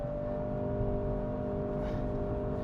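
2025 Honda CR-V Hybrid AWD accelerating with its CVT holding the engine at a steady, unchanging drone, a constant hum heard from inside the cabin, moderately loud with no shift in pitch.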